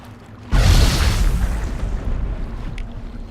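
A grenade goes off in a video game with one sudden, loud boom, followed by a rumbling tail that fades over a few seconds.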